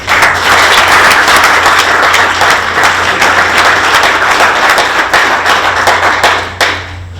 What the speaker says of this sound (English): If you could join me in giving Ann a big round of applause.